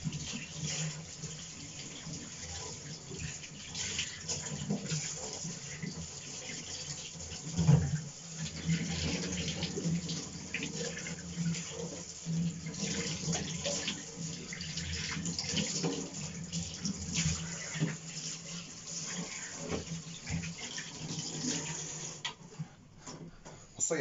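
Running tap water from a kitchen faucet splashes continuously as fish are washed beneath it, a moderately faint steady flow with occasional louder splashes and clatter, while people talk in the background.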